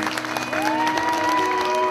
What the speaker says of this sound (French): Sous vos applaudissements, Nicolas Canteloup